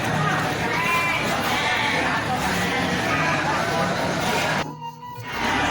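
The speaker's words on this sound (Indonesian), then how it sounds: "ada domba-domba" Sheep bleat repeatedly at a busy livestock market, their cries overlapping with crowd babble and voices in a dense, steady din that drops briefly near the end.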